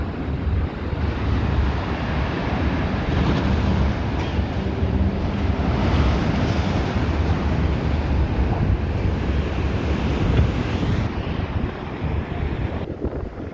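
Strong wind buffets the microphone while sea waves wash steadily near the pier at Blackpool, a continuous loud roar with no voices.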